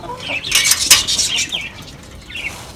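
Pigeons burst out of a coop and fly off, wings flapping in a loud, close flurry that peaks early and then fades into softer scattered flutters.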